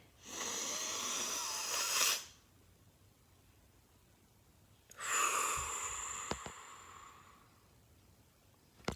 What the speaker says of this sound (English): Let all of your air go first, like a dragon breathing out.